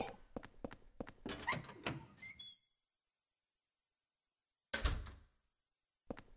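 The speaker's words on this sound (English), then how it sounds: "Oh, gunshots." A rapid series of sharp, loud bangs in quick succession, then silence, followed by a single heavy boom and a final short hit, from gunshots in the video game Silent Hill 4: The Room.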